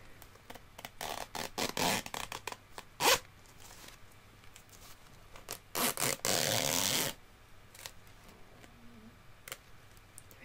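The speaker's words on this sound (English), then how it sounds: "Try and make some zip sounds." A zipper on a sturdy fabric haul item is pulled back and forth in several short, rough, uneven strokes, close and crisp, with one longer zip near the end and quiet handling in between.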